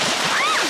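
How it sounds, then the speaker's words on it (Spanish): Cartoon pigs splashing in beach water, a short burst of bright splashes with a voice-like sweep rising over it. "Tal vez ya fue mucho salpicar."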